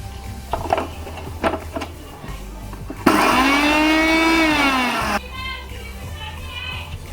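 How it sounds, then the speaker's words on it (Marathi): A mixer grinder whirs up spices and salt to a coarse texture in one loud, whining burst of about two seconds. Quieter kitchen sounds and bumps come before and after it. "मी आता मिक्सरवर फिरवून घेणार आहे."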